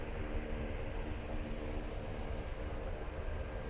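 A DHC-6 Twin Otter in Microsoft Flight Simulator 2024 after a rough landing on a short runway, its engines giving a steady, loud broadband roar and drone that holds even throughout, with no talk.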